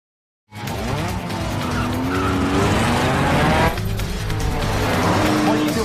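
A film car chase: tires squeal and skid loudly under a roaring engine, sustained and close, with a brief shift partway through.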